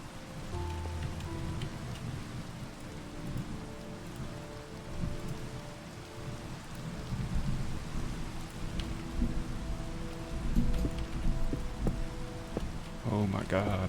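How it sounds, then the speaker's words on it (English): Steady rain and low rolling thunder in a village-building video game, a continuous soft wash with deep rumbles rising and falling throughout, faint and even, with a brief clatter near the end. "I can feel the thunder coming."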